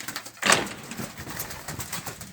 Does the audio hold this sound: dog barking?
no